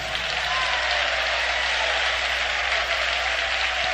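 A church congregation claps steadily and loudly for several seconds, a dense, continuous wash of applause.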